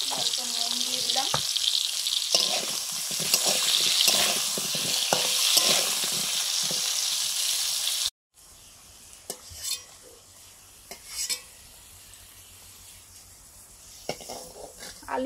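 Potatoes fry in a pan with a loud, steady sizzle and stirring scrapes for several seconds, then the sound drops to quieter kitchen clatter and faint sizzling.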